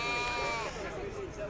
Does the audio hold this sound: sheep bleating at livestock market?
yes